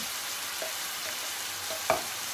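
Steak searing in a hot pan with three to four garlic cloves added, a steady soft sizzle running throughout with a few faint clicks and one brief sharper tick near the end, no voices.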